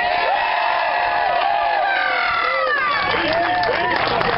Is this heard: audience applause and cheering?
yes